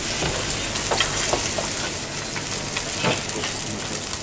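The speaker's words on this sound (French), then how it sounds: "Nos filets vont pas tarder cuire voilà, ils sont bien colorés." Fish fillets crackle and sizzle steadily in a hot pan, a loud close frying hiss with occasional scrapes and stirring clicks, no voices.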